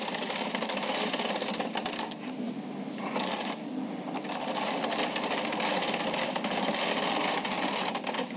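A Bond Classic knitting machine runs its carriage across the needles to knit rows, giving a fast mechanical clatter and rattle, close and steady with brief pauses between passes.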